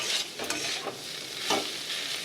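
Ridge gourd fries in a pan with a steady loud sizzle, broken by a few scraping stirs, with no voices.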